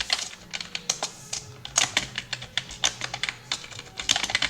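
Steady typing on a computer keyboard while coding Python file handling, a rapid irregular run of crisp close key clicks with no talk.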